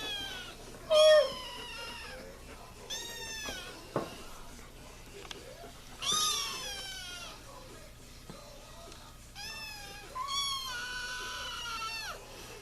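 Kittens meowing, several high, wavering mews scattered through a quiet indoor space, some overlapping in short bursts with pauses between.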